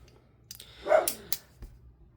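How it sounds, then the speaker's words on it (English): A single dog barks once at a distance, faint and brief against a quiet background. "That is a dog barking at something."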